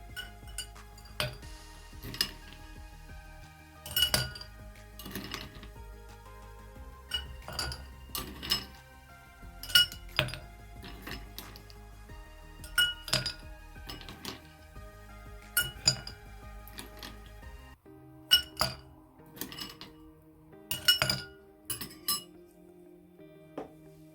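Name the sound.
ice cubes clinking into a glass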